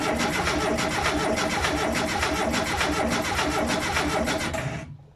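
Starter cranks the engine of a Renault Estafette van, a fast steady rhythmic churning that runs loud and continuous for about five seconds without catching, then cuts off abruptly.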